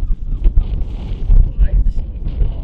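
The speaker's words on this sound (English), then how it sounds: "Okay, very strong wind." Strong wind buffets the microphone on a hilly golf course above Whitsand Bay, a constant low rumble with gusty surges throughout.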